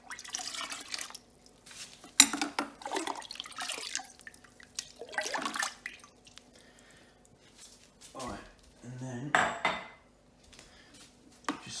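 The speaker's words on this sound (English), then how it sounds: "Just going to give this a little bit of a stir to start with" Homemade cherry wine being stirred in a vessel: irregular bursts of liquid sloshing and utensil clinks with quiet gaps between them, close by, while someone talks intermittently.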